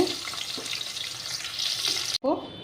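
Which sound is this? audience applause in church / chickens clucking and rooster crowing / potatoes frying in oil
potatoes frying in oil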